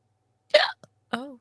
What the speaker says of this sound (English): I'm gonna call it a hiccup.